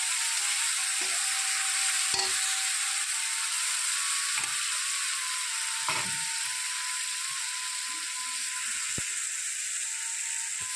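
Onions and spices frying in a pan, a steady hiss of sizzling oil held throughout with scattered clicks and scrapes of stirring on top, close and moderately loud, no one speaking.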